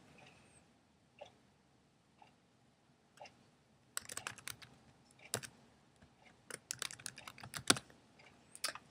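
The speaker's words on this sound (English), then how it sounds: "So I will type the title, and you can go ahead and type some more." Typing on a computer keyboard while entering a document title, starting with a few sparse keystrokes and then breaking into dense, rapid clicking bursts, close and fairly quiet, with no talking.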